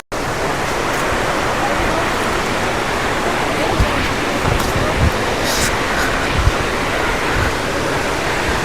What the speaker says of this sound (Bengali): জলের ফ্লোটা একবার দেখো, মারাত্মক লেভেলের জলের ফ্লো